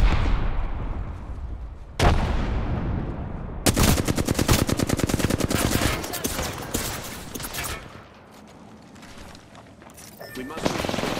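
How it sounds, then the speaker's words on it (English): Gunfire in a video game: loud, rapid bursts of automatic fire and single shots, close and dense in the middle, then pausing before more shots near the end. "Getting shot at."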